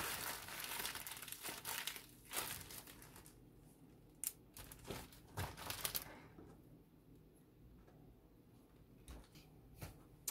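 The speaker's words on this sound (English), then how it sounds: "I'm going to put my bag of peels and ends back in the freezer for when I make broth." A bag of vegetable peels and ends being handled, giving close, quiet crinkling and rustling in irregular bursts, with pauses between.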